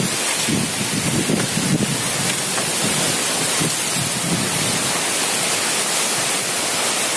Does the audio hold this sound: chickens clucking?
no